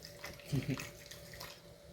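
Liquid, likely hot cocoa, trickles through a funnel in a short soft pour, faint and close, with a quiet room behind it.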